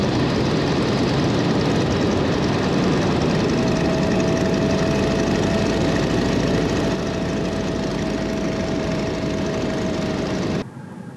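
Engine of a 100-year-old propeller plane during a landing approach and touchdown, a loud continuous drone with a steady tone running through, dropping abruptly quieter near the end.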